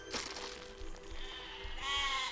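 Sheep bleating in the Besiege building game, a few wavering bleats close and clear, the last one longer and louder, with no talk.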